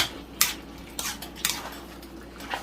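A utensil scrapes and knocks inside a pot while octopus, squid and mussels are stirred for pancit palabok, giving several irregular close clinks and scrapes over a quiet background.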